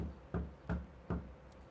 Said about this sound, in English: He tapped at the door.